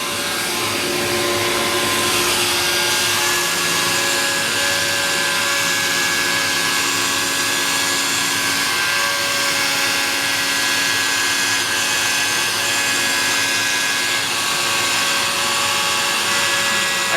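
A CNC router spindle cuts MDF door inserts with a constant, loud, high whine and a dense hiss of cutting, holding steady and close throughout with no talk.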